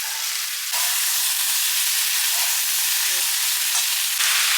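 Ginger paste and tomato fry vigorously in a pan, a loud continuous hiss and sizzle close up with occasional faint scrapes of stirring.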